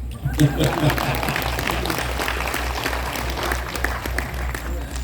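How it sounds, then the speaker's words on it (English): An audience clapping for a senator's remark, a moderate round of applause from many hands over a low steady hum, with some voices mixed in before it tapers slightly. "Yes, you can clap for that"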